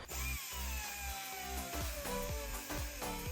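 A power tool grinds into a tapered pinion bearing cone, a loud close whine whose pitch slowly falls as it bites into the steel, broken by brief pulsing dips in load.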